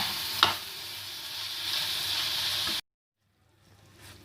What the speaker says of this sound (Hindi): चिकन को अच्छी तरह से पका लेंगे।